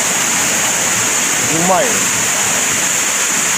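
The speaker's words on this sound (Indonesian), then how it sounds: "air terjun ataupun curug bulu mengalir" Curug Buluh waterfall in Gumay Ulu, Lahat, pours in a steady, loud broadband roar that fills the whole stretch, with a voice briefly speaking over the rushing water.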